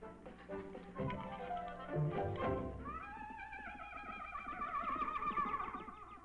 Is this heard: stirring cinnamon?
no